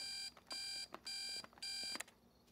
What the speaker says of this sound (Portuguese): Você não tem um alarme super irritante que faz...